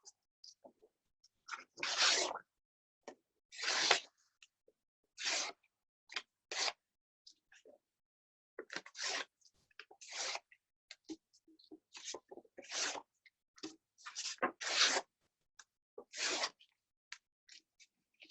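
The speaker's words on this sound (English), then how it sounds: "So now I'm going to rip my blue paper." Sheets of blue paper are torn by hand in a quiet room, giving a dozen or so short, crisp ripping bursts. The tears come at irregular intervals with silence between them and no voices.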